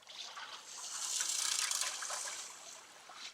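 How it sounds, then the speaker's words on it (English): Water splashing and trickling while a gold pan is rinsed, a soft hissing pour that swells and fades over a few seconds, close and fairly faint, with no speech. "Okay, and I'll just rinse this."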